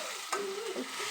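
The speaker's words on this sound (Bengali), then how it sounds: "নাড়া দিয়ে রাখছি" Potatoes and dried fish are stirred in a hot pan, a soft steady sizzle with a scrape of the spatula partway through, close and alone with no talk.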